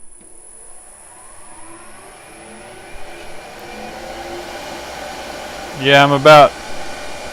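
A wood lathe spins at over 3000 RPM turning an acrylic pen blank, a low steady mechanical whir with a high whine, fairly quiet, before someone speaks briefly near the end.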